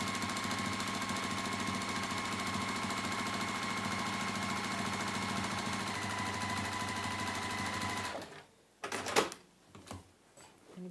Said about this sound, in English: you're just sort of top stitching down the side